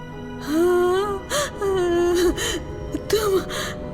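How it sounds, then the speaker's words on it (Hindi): A woman crying and moaning in a horror story, drawn-out wavering wails broken by gasping sobs, close and loud with no other sounds. "किसी के रोने की आवाज आने लगी।"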